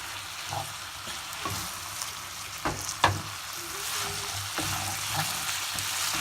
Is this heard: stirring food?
yes